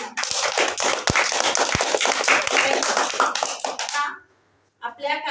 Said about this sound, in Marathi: त्यासाठी सगळ्यात आधी तुम्हाला जोरदार टाळ्या आमच्याकडनं